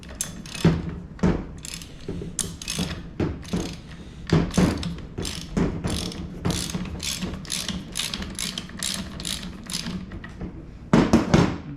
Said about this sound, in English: You just want to loosen it slowly, and when the cap comes off, the spring's not going to shoot it out 100 miles an hour.